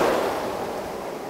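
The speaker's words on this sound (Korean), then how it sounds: "파도가 조금만 적으면 최상이겠는데" Sea waves breaking along the rocky coastline off Uljin, Korea, where anglers fish from shore ledges; a steady, loud broadband wash of surf mixed with gusting wind fills the short stretch without any voices.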